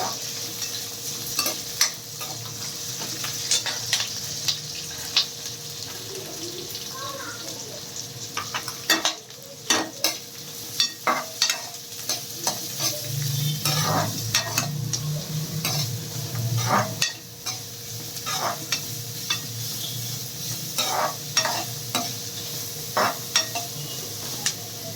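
Green chillies, cashews and onion fry in a pan with a constant sizzle, broken by frequent sharp clinks and scrapes of a spoon stirring against the metal.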